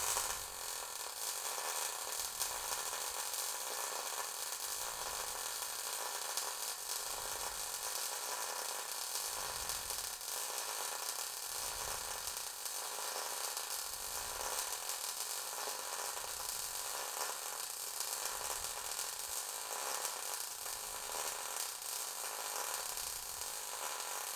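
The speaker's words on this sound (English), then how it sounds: "We're going to do a drag weld on this one." A Harbor Freight Titanium Unlimited 200 welder running a drag fillet weld, giving a steady, continuous close crackling hiss with no breaks.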